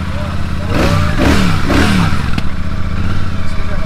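A Royal Enfield Super Meteor 650 motorcycle cranks and fires up, its engine rumbling steadily through the whole stretch at close range, with people talking over it.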